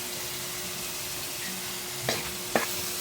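A spoon stirring sautéed alamang shrimp paste in a hot pan, a steady close sizzle with soft scraping and two brief sharp clinks of utensil against the pan.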